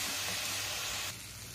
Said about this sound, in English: We will mix this well and fry it until golden brown.